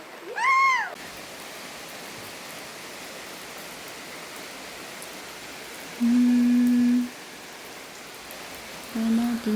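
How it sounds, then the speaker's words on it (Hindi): Heavy rain falls steadily as an even, dense hiss throughout, broken by a few brief tonal chirps and hums from nearby. "देखो गाइस कितनी बारिश आ रही है अभी"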